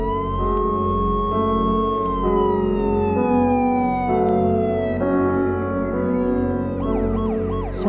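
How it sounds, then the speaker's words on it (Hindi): An ambulance siren wails with slowly falling tones over a heavy engine rumble, switching to a quick warbling yelp near the end. "खैर ये एम्बुलेंस हमारे घर क्यों आई है?"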